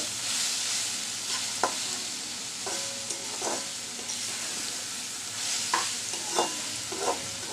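Boiled radish stir-fried with shrimp in a pan, a steady close sizzle broken by frequent scraping strokes of a spatula against the pan, with no voices.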